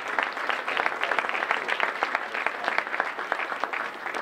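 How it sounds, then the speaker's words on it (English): Audience applause at a Metro South chamber morning business gathering: a steady, dense wash of many hands clapping together, fairly close and even in loudness for the whole stretch, with no talk over it. "Let's have a round of applause for all of them."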